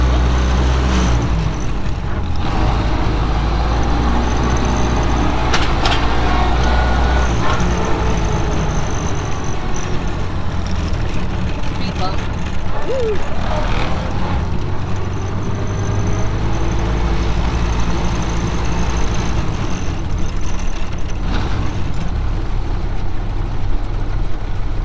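A 1931 Ford Model A engine runs close by, producing a loud, steady low rumble with slight rises in intensity as it is revved, and no voices are heard over it.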